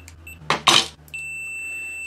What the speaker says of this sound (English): So if the fuse is good, it'll beep like that.